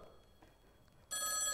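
A telephone starts ringing abruptly after a quiet stretch, a bright, loud electronic bell tone that continues steadily to the end.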